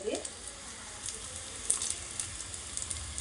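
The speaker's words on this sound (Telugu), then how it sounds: "ఉల్లిపాయలు అయితే వేగుతున్నాయి." Onions softening in a hot pan give a quiet, steady sizzle with faint crackles and a few soft stirring knocks, heard close with no talk.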